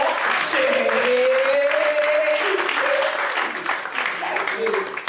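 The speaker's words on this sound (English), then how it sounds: "A round of applause, please, for Jay-Z." Audience applause for Jay-Z at an evening creative event, clapping from a crowd heard beneath a loud voice speaking over it, with the clapping fading slightly toward the end.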